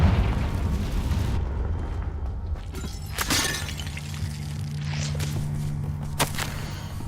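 Confringo fire spell blasting in Hogwarts Legacy: a loud crackling burst and shattering boom up front, then sharp cracks around the midpoint and near the end over a steady low game rumble and droning tone.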